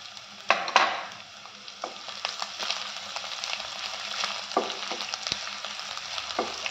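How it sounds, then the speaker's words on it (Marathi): Ginger, green chilli and garlic pieces sautéing in a pan for chilli paneer, a steady broadband sizzle with a few sharp scrape-and-stir accents, close and continuous with no talk. "हे सगळं आपण परतून घेऊया."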